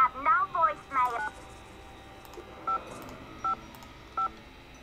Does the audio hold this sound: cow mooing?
no